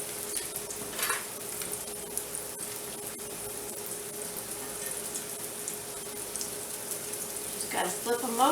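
Zucchini slices frying in a pan for a panini, a steady soft sizzle running throughout at moderate level, with a brief clatter near the end.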